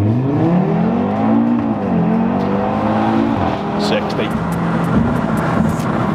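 Audi RS3 launching hard under launch control, engine rising in pitch through gears with a brief shift dip, loud and close from inside the car, with some chatter and sharp squeaks later.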